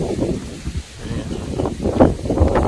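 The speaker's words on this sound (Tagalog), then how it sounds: "nakita ko malakas ang hangin" Gusty wind buffeting the microphone, a low rumbling roar that swells and dips unevenly throughout.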